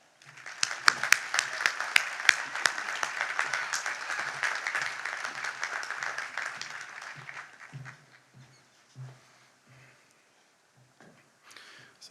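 Warm applause from a commencement audience welcoming the Presbyterian College 2026 Professor of the Year to the podium, dense steady clapping for about eight seconds that thins into scattered claps and dies away.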